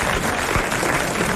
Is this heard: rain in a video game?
no